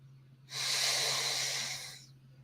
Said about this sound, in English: And now take a deep breath